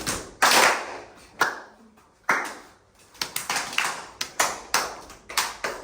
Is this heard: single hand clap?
yes